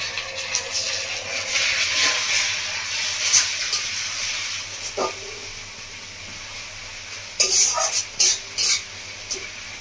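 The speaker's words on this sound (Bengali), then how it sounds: "এদিকে পেঁয়াজটা বেশ ভাজা ভাজা হয়ে এসছে। তো সঙ্গে এবার দিয়ে দেবো টমেটো বাটাটা।" Tomato paste frying with browned onions in a pan, giving a close, continuous sizzle broken by several clanks and scrapes of a utensil stirring against the metal.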